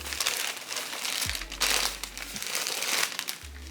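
Crinkly plastic packaging rustles and crackles continuously and close up as a 26-inch HD lace wig is pulled out of it, with louder crumpling bursts and a low hum underneath.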